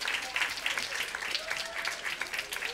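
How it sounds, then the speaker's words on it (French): Audience applause after questions are answered at a French-speaking gathering, a steady crowd of hands clapping fairly quietly at moderate distance, continuous throughout with no talk over it. "On peut peut-être les applaudir, non?"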